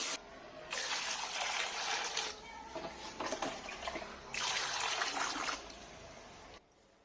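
Running water washing cut pieces of Godavari koyyanga fish, two bursts of splashing, gushing flow with a quieter trickling stretch between, heard close and without talk.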